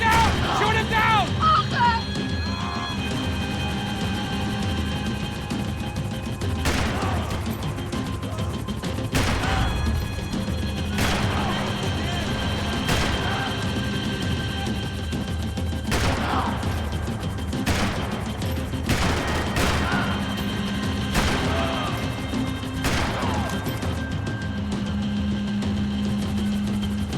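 Gunfire aimed at a helicopter in Max Payne 3, with repeated loud bursts and clanking impacts over a constant engine and rotor drone, mixed with shouting voices and game effects.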